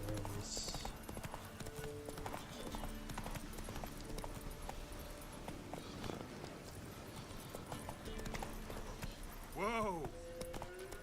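A video game horse clip-clopping along: a brisk, even run of hoofbeats, with a whinny near the end and a voice talking over the top.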